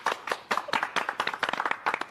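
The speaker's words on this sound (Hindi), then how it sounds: "भाई तालियां।" A small group claps at a ribbon-cutting in a Hindi TV comedy scene, a brisk, uneven burst of hand claps lasting a couple of seconds, close and clear with no talk over it.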